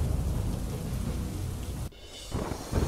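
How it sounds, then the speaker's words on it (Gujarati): Heavy downpour in Diu after sultry heat, a loud continuous roar of rain with low rumbling thunder, briefly cutting out before resuming. "દીવમાં પણ ભારે ઉકળાટ બાદ વરસ્યો ધોધમાર વરસાદ."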